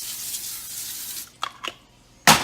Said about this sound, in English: Spray it pretty graciously all over your cookie sheet.